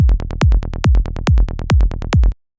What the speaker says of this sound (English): The bass has no processing whatsoever.